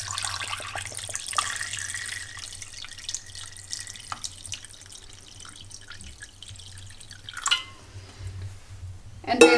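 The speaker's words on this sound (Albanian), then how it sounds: "ja shtojmë ujin, derisa të mbulohet mishi." Water is poured into a cooking pot of meat for a Vlora-style stew until the meat is covered, a close trickling and splashing with scattered drips and a louder gush near the end.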